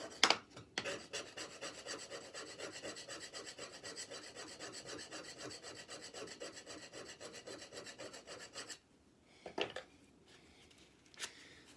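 A chisel scraping and shaving a turned wooden knob during finishing, with a steady rasping scrape running for several seconds before stopping, followed by a few short isolated strokes.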